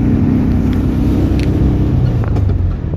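A 1978 Volkswagen Beetle convertible with a manual transmission drives along a road, its engine a steady low rumble mixed with wind buffeting, continuous and close throughout.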